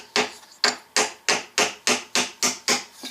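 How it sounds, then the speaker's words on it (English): A block of wood used as a hammer knocks a push pin into a metal can, eight evenly spaced sharp strikes at close range, each ringing briefly before the next. "I'm going to use my block of wood as a hammer"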